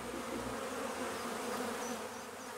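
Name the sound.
honeybee swarm buzzing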